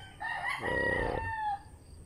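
A Black Australorp rooster lets out a single loud, close crow lasting about a second and a half, with a rising start and a long drawn-out tail, over faint background hum.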